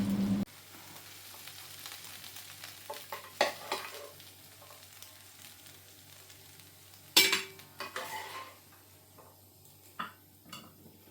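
Beef fried rice with vegetables scooped out of a pan after the hob is switched off, with sparse metal scrapes and clinks of a utensil against the pan, a few sharp louder knocks, and quiet gaps between.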